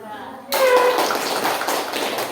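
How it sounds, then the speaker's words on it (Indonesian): Classroom of students applauding a group after their presentation, a burst of many hands clapping that starts abruptly and continues steadily close by, with faint young voices mixed in. "Ya, kita beri aplaus kepada kelompok 2."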